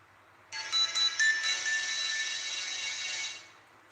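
A U340 electronic warning siren powers up with a few quick rising chirps, then holds a steady high-pitched tone for a few seconds before cutting off.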